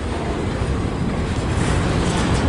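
Steady, loud rumble and hiss of a long CSX freight train rolling by nearby in Fostoria, Ohio, continuous wheel-on-rail noise without any speech.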